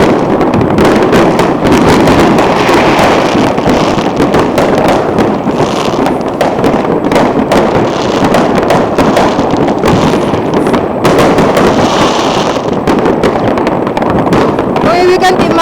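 A fireworks display in Copenhagen, Denmark crackles and booms continuously, with dense bursts and pops amid wind noise and people talking nearby.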